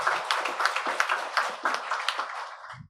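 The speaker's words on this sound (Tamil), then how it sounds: "நம்முடைய பாடகர் குழுவினருக்கும் இசைக்கலைஞர்களுக்கும் நம்முடைய மனமார்ந்த நன்றியை நம்முடைய கரகோஷத்தின் மூலமாக தெரிவித்துக் கொள்வோம்" A Tamil Christmas Mass congregation applauds the choir and musicians, many hands clapping in a dense, lively burst that runs steadily before stopping abruptly, with no talk over it.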